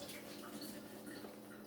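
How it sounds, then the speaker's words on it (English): Hands are rinsed under a running kitchen tap, a steady, close splashing wash of water that continues without a break. "let me rinse my hands"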